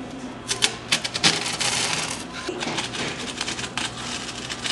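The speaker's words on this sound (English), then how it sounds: "Now, I'm cutting this piece right here." A steak knife saws through a piece of material on a table, giving a series of sharp, close, irregular scraping rasps and ticks, loud at first and then thinner, with no voices.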